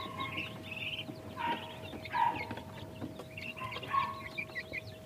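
Backyard chickens cluck steadily while eating, with several overlapping soft calls close by and a faint constant electrical hum underneath.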